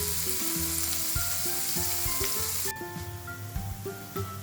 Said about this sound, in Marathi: हळद, बारीक चिरलेला कांदा सगळं छान परतून घ्यायचं.